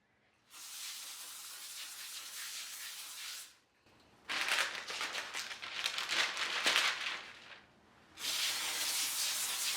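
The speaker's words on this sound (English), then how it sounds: "I'm gonna spray them with cooking spray here." Three bursts of cooking spray hiss out of an aerosol can in sequence, each a steady, close, sharp hiss lasting a few seconds, separated by brief pauses.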